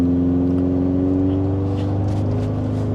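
A Toyota Tacoma pickup fitted with a Pedal Commander throttle controller accelerates from inside the cab, its engine drone rising smoothly in pitch over a few seconds with steady road noise underneath.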